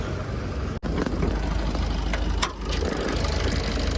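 A 2018 Maruti Suzuki Baleno Sigma diesel engine idles nearby, a steady low rumble with a faint even knock and a brief interruption early on.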